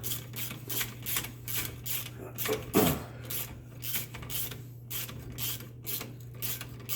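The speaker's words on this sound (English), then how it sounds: "I always hate that clicking when you're seating down something that's cast" Cast parts clicking as they seat while a Kawasaki Bayou axle bearing is fitted, quiet mechanical ticks and creaks repeating at uneven intervals over a low steady hum, with one louder knock midway.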